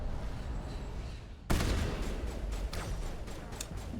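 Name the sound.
sniper gunfire in a video game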